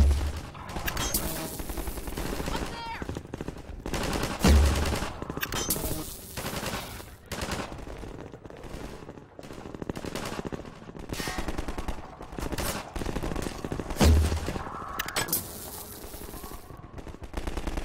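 Rapid bursts of gunfire from Half-Life 2, loud and dense with frequent heavy impacts, running continuously with game sounds layered throughout and faint talk underneath.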